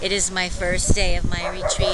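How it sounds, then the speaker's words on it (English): Several dogs yip and bark excitedly in short bursts while a person speaks over them nearby. "All the dogs are very excited to see each other. You can hear them all barking."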